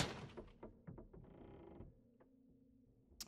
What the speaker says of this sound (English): Did you close the door for me?